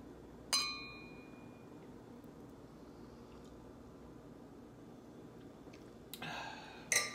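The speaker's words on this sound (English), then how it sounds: "let us touch our flutes gingerly" Champagne flutes clinking in a toast: one bright ringing glass clink early on, then a long quiet pause before a faint shuffling and a second sharp clink at the end.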